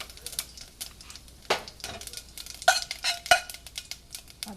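Cumin seeds and asafoetida sizzling in hot oil for spinach sambhar, with soft crackling bursts and sharp clinks of a metal spoon against the pan, close and intermittent.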